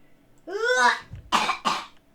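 A child coughs during a Roblox fashion game session, first a voiced throat sound, then two sharp, close coughs in quick succession.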